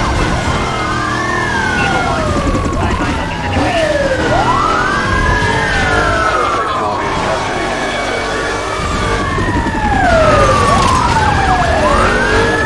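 Loud, close police sirens from the video game Need for Speed Most Wanted (2005) sweep up and down in overlapping wailing cycles over steady engine rumble, with occasional voices.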